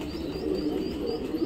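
Soft cooing and faint chirps from a group of young pigeons kept with adult pigeons during training, low murmuring calls close by over a steady background hum, no talking.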